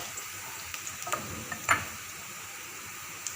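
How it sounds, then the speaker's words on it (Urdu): Onion and cumin fry gently in a pan, a soft low sizzle with a few small ticks and pops, quiet and fairly steady. "اب ہم اس میں زیرہ ایڈ کریں گے۔ اس کو بھی ہلکا سا فرائی کرنا ہے۔"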